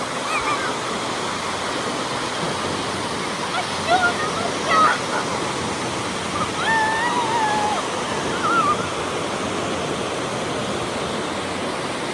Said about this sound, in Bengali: এত বাতাস ছিল বন্ধুরা, যে বাতাসের শব্দে তোমাদের বিরক্তি লাগবে